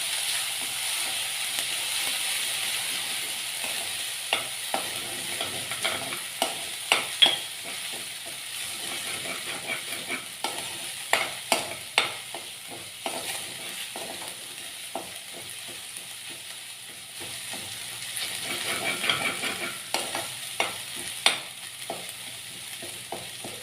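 Ginger, chili and garlic paste sautéing in hot oil for Kathiyawadi-style ulta vada pav, a steady close sizzle broken by frequent scraping taps of a spoon stirring the pan.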